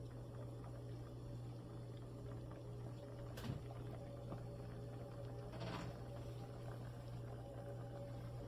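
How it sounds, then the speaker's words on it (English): A pot of potato, tomato and meat soup bubbles at a low boil, a steady faint hiss and gurgle with a constant hum, broken by a couple of brief clinks. "our soup has been boiling for a little while"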